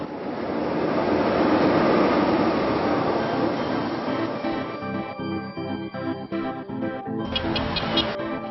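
A loud, steady rumble of a São Paulo metro train running underground fills the space, then eases into clattering and rattling with a brief high squeal near the end.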